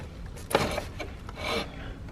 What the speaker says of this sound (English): So this light bulb, you'll press this and turn it counterclockwise and pull it out.